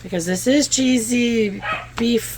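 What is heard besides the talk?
dog barking in the background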